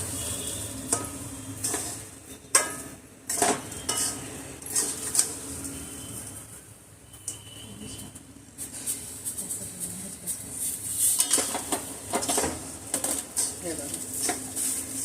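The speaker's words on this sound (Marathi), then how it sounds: "खोबऱ्याचा खीस आणि साखर चांगले मिक्स करून घेते" Grated coconut and sugar being mixed in a pan while making coconut barfi: irregular scraping and knocks of a spoon against the pan over a faint sizzle, close by, with a steady hiss throughout.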